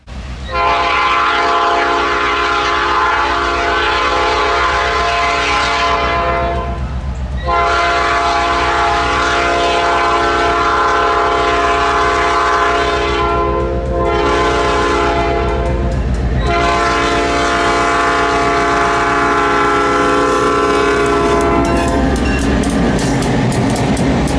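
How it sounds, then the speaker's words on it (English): A train rolling through a road crossing beside an elevated track, loud and close for the whole stretch, with a sustained horn blaring repeatedly over heavy rumble and wheel clatter. "we beat the train to that crossing with plenty of time to set up the exact shot I wanted"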